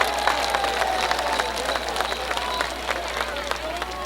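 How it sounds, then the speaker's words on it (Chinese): An audience at a 2005 Amis harvest festival in Taipei County applauds the tribal chiefs with steady clapping and scattered cheers. The sound comes from a large outdoor crowd at mid-distance, and a voice faintly rings out over it. "我们用热烈的掌声，谢谢我们所有的头目"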